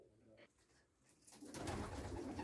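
Pigeons coo in an open dovecote holding Baku and broad-tailed breeds in a Cossack village. Soft, low cooing sits under quiet ambience, then a louder burst of rustling, flapping noise fills the second half.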